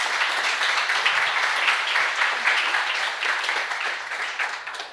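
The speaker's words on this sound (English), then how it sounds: "Once more, please. Another round of applause." An audience at a conference talk on AI testing gives a round of applause, a steady dense clapping that fades slightly toward the end.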